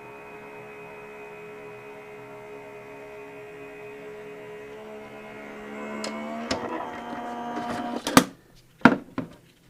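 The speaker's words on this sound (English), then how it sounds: "So I'm putting that through my die cutting machine now." Electric die cutting machine rolling paper through a rubber mat, a steady motor hum and whine that grows louder and rougher before ending in a few sharp clunks and clicks.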